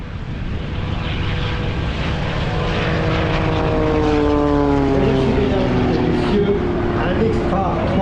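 An Extra 300 aerobatic propeller plane of the French Air Force roars loudly overhead at an air show, its engine note sweeping down in pitch as it passes, steady and close throughout.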